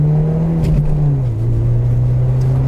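A Peugeot 309 GTi engine drones loudly from inside the car, a steady high-revving tone that dips briefly and then holds, with no talking.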